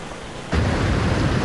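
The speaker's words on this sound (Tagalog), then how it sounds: "Malakas ang buhos ng ulan sa bayan ng Dulag sa Leyte kaninang alas 11 ng umaga." Heavy rain pours in Dulag, Leyte during Typhoon Quinta, a quieter hiss that jumps abruptly into a loud, dense roar of rain with a low thundery rumble.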